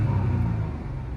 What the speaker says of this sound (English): Let's hear the engine rev.